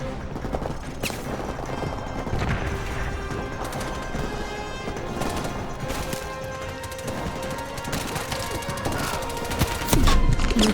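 Sustained covering gunfire in Call of Duty Modern Warfare Remastered, with dense overlapping shots and impacts running nonstop under game music and effects, loud and busy throughout.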